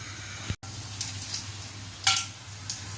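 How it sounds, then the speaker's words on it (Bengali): Whole garam masala and cumin seeds sizzling in hot oil, a close steady frying hiss with a brief cut near the start and a louder crackling burst later on. "তেলে গরম মশলাটা দিয়ে দিলাম। গরম মশলা, জিরা, গোটা জিরে যেটা দিয়ে দিলাম।"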